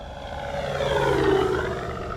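E-Flite Carbon Z T-28 RC plane with a Master Airscrew 15.7 propeller passing low, a steady buzzing prop and electric motor whine that swells slightly then eases, close and continuous with no voices.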